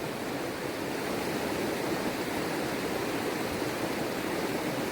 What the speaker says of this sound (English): Hear the roar of that water.